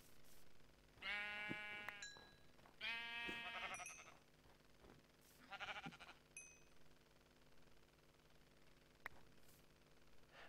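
Sheep in Minecraft bleat two or three times in short, nasal calls, moderately close, separated by quiet stretches with faint game clicks and a low steady hum beneath.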